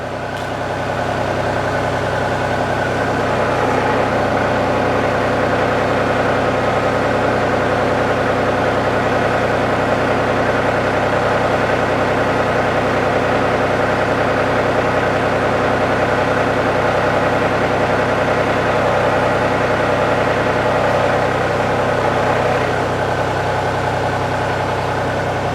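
A two-speed hydraulic winch runs slowly in its low-speed, high-torque setting while the engine idles. The drone is steady, close and unbroken throughout.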